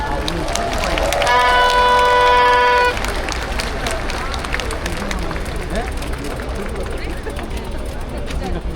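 A crowd claps steadily at an outdoor election campaign rally in Seoul, a dense crackle of applause that carries on throughout, with a brief steady electronic tone ringing over it near the start.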